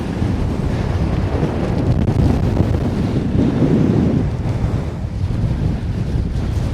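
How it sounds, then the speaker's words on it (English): Strong wind roars across the open summit of Gavel Fell, a steady, loud, close buffeting rumble hammering the microphone without pause, swelling slightly in the middle, with no voices. "It's quite windy, as you can probably hear."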